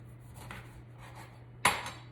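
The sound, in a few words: lemon slices dropped into a pot for lemon ginger clove tea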